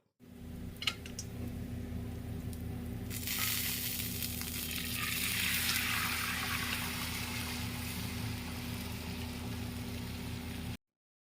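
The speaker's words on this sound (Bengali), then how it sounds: "এখানে আমি কালো জিরে রসুন আর পেঁয়াজ ফোড়নে দিয়েছি" Nigella seeds, garlic and onion sizzle in hot oil while tempering, a close, steady frying hiss that swells louder partway through as more goes into the pan, with a constant low hum underneath.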